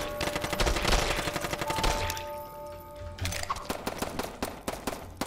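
Rapid submachine gun bursts in the game HellSign, a fast rattling string of sharp shots, then a brief lull, then more spaced cracks and bursts, fairly close and loud.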